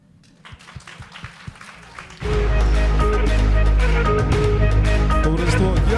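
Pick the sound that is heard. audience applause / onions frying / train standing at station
audience applause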